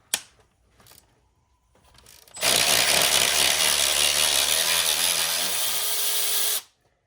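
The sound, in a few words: loosening oil separator bolts with a T30 driver on VW engine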